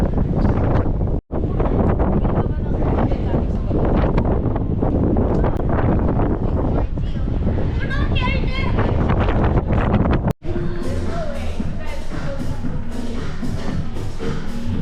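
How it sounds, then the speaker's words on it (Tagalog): Strong wind roars and buffets the microphone continuously on the cruise ship Ovation of the Seas, with people talking underneath the rushing gusts. "Lakas ng hangin."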